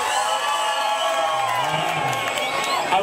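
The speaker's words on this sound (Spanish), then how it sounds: "Aplausos y puya para el número dos." A crowd at a sonidero dance anniversary event cheers and whoops in a steady, loud roar that fills the whole moment, with shouts rising above the mass of voices.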